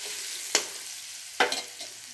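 Potatoes and spices frying in a pan for a cauliflower-potato ghugni, a soft steady sizzle broken by two sharp utensil clinks and a small scrape, close and fairly quiet.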